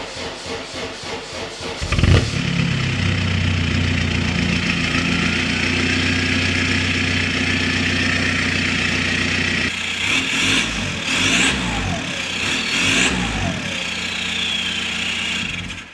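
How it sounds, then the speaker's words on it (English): A straight-piped 1.9 TDI diesel car engine cranks and catches, then settles into a loud, rough, throaty idle, with a few sharp revs blipped near the end. "Start the car."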